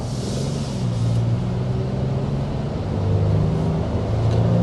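A 2025 Nissan Frontier PRO-4X pickup accelerating on a road, heard as a steady low engine drone from inside the cab that swells slightly as speed builds, with no talk.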